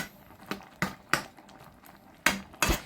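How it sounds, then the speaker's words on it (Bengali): Several sharp metallic clanks ring out at uneven intervals as a lid is set onto a cooking pot of hilsa fish with pui shak greens, close and fairly loud against quiet background. "এরপরে আবার ঢাকা দিয়ে রাখবো"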